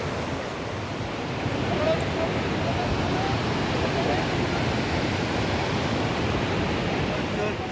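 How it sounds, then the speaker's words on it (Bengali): The Madhuganga, a Himalayan mountain river, rushes past in a continuous broadband roar, steady and fairly loud with no clear breaks. "মধুগঙ্গা আলাদা ওই যে বয়ে যাচ্ছে"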